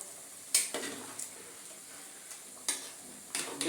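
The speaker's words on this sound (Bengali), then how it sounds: "বেশি করে কষাচ্ছি" Beef braising in a pan hisses with a steady sizzle, broken by a few sharp scrapes and clinks as it is stirred, close and without talk.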